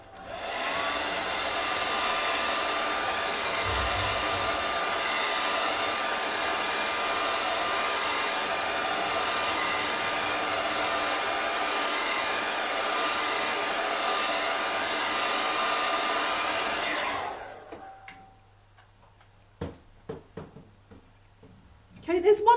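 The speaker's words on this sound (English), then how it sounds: "Hairdryer time. Grab your hair dryers and dry her out." A hair dryer drying a painting blows with a steady, loud whir for about seventeen seconds, then shuts off, followed by a few faint clicks and rustles.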